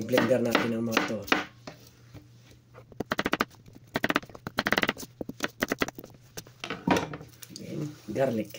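A knife chops vegetables into large pieces for kimchi in quick bursts of sharp taps on a board, with a person talking in Filipino in between.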